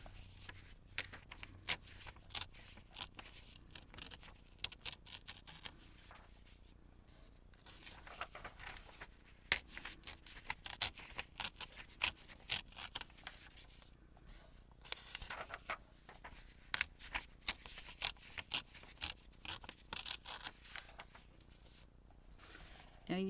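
Pages being torn out of an old book to alter it into a journal, a quiet run of dry ripping and rustling paper bursts with short pauses, close by, with soft handling noises between.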